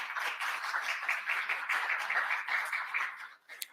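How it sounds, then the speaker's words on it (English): An audience at a formal ceremony applauds, a dense, sustained patter of many hands clapping at moderate distance that fades out near the end with a final sharp clap. "I think that deserves another round of applause."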